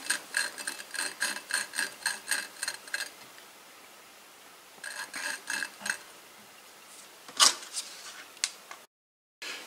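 Repeated rhythmic scraping and rasping strokes of hand-turned lapping of a moped engine's valves, a quick run of strokes, a pause, then another burst, ending with a sharp knock.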